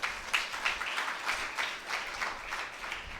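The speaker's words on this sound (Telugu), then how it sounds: "చప్పట్లు కొట్టండి గట్టిగా." A church congregation at a Sunday service clapping together, steady rhythmic applause from many hands at moderate distance, fairly soft and sustained for a few seconds.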